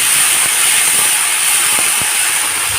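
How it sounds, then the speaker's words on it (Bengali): Yardlong bean pieces hitting a hot pan with lightly fried onion, setting off a loud, steady sizzle and hiss that runs without a break, with a few faint clicks of utensils underneath and no voice. "এখন দিয়ে দেবো বরবটির টুকরোগুলোকে"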